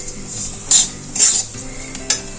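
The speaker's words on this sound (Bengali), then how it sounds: "এই মুগের ডালটা হালকা আঁচে ভেজে নেব।" Moong dal being stirred as it fries over a low flame, a spoon scraping and clinking against the pan in a few short bursts over a soft steady background, close and with no talking.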